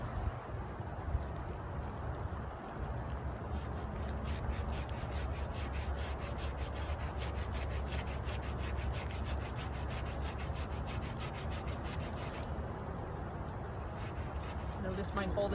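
A hand saw works through a large fruit tree branch during winter pruning outdoors, a steady, rapid back-and-forth rasping of the blade through wood up close, running almost continuously with a brief pause near the end.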